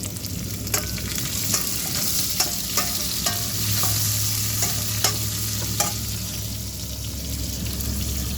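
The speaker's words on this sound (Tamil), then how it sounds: "நல்லா வதங்கிட்டு இப்போ காயை சேர்த்துருக்காங்க." Ginger, garlic and papaya stir-fry in hot oil in a pan, a steady sizzle broken by repeated sharp scrapes and clicks of a spatula against the metal, with a low background hum throughout.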